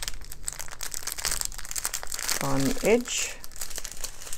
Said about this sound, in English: Let's do some crinkling.